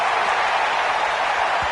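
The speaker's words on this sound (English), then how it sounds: "The crowd getting into it as we come up on a big 3rd down." A football stadium crowd roars ahead of a big third down, a dense, loud, continuous cheer filling the space with no distinct voices standing out.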